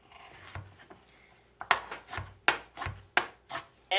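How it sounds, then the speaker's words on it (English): A knife chops carrots and celery on a cutting board for chicken noodle soup, landing in crisp, sharp strokes that start sparse and settle into a steady rhythm of about two per second, close and clear. "Chop and keep chopping."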